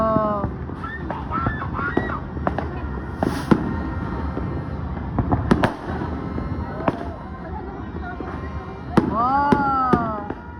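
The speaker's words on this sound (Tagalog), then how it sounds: "Ayun yung magandang fireworks." Fireworks bursting over Cogeo, a series of sharp booms and crackles at varying distance, with excited voices reacting and talking throughout.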